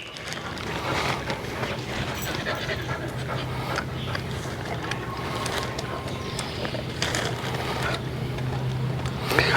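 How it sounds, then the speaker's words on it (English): A husky pants in quick, steady breaths nearby, heard through a constant wash of boat engine, water and wind noise in flooded Thailand; no one speaks. "Oh, there's the husky over there."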